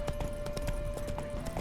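Horse hooves clip-clop in a quick, steady trot in The Witcher 3, loud and close with evenly spaced hoof strikes over a constant tonal background hum.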